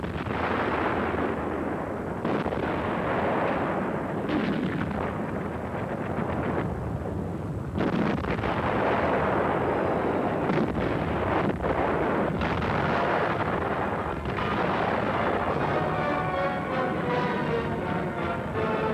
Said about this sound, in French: Par un violent tir de barrage, l'artillerie arrête l'ennemi sur ses positions de départ.